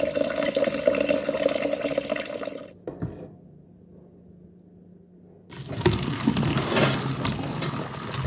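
Soaking water drains from a pot of ackee into a sink with a steady splashing rush, stops abruptly for a few seconds, then resumes just as strongly.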